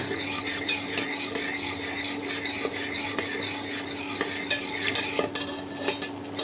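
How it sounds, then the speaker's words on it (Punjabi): Chilies and garam masala are stirred into ridge gourd in a pan: a continuous, close scraping of the spoon against metal over a low sizzle of frying, with no talk. "ਗਰਮ ਮਸਾਲਾ ਇਹਨੂੰ ਆਪਾਂ ਮਿਕਸ ਕਰਦੇ"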